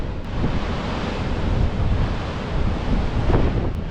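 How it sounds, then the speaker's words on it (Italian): Ocean surf near a lighthouse on a coast where waves run four to five metres, a continuous loud rushing roar of breaking water with heavy wind buffeting the microphone throughout. "le onde oggi sono abbastanza basse, come si dice, 4-5 metri"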